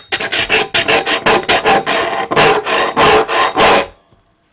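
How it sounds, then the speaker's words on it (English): A flat engineer's file is rasped across mild steel in a workshop: loud, rhythmic back-and-forth strokes, about a dozen in steady succession, then silence. "it's a fairly decent bite there from the flat file"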